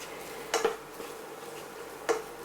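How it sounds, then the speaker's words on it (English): Bacon bits with garlic and onions being stirred in a pan for tartiflette: two short utensil clanks against the pan a couple of seconds apart, over a quiet, steady background. "in goes the bacon bits, any bits of juice that are left on them. Give it a stir around"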